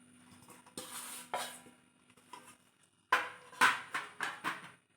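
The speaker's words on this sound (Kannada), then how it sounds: "ನಾನೀಗ ಒಂದು ಪಾತ್ರೆಗೆ ಈ ಹಿಟ್ಟನ್ನು ಹಾಕ್ಕೊಳ್ತಾ ಇದ್ದೀನಿ" Poori dough ingredients being tipped into a vessel in a home kitchen, with a few sharp metallic clinks and clatters of utensils, faint and intermittent, bunched near the end.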